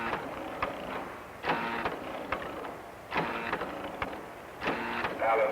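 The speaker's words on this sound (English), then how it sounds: "A different machine adds the apple filling." A pie factory machine adding apple filling runs in a repeating mechanical cycle, with whirring and clattering bursts about every second and a half. The machine is heard fairly close with no talk.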